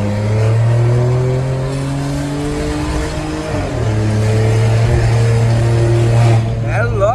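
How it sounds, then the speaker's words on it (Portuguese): Stage 2 tuned Volkswagen Polo TSI heard from inside on the street, its engine and exhaust droning loudly and steadily with rising revs, while people talk over it. "E agora bora testar na rua e mostrar o Polinho aí, que tá com dois tipos de ronco"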